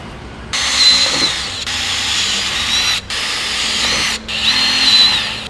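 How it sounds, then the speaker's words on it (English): A power drill with an 8mm bit whines in several bursts, briefly stopping and restarting, as it bores pilot holes for a Kia Cerato GT rear diffuser close by. "Take your 8mm drill bit in your drill and put some pilot holes in."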